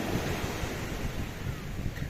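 Sea waves breaking on a shore, a continuous surging wash of surf with wind buffeting the microphone, close and moderately loud.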